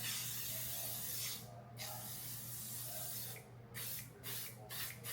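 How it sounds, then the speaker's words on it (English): L'Oreal Infallible setting spray mists onto a face in soft, close hissing bursts. A steady faint hum sits underneath, and the hiss drops out briefly between pumps. "The setting spray, I'm loving it"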